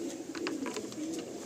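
Pigeons in a giribaz pigeon loft give soft, repeated coos that overlap at a steady murmur across the whole stretch, with no one talking.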